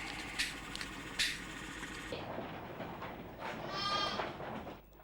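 Sheep on a farm bleating, several wavering calls close by over background noise, one long bleat near the end.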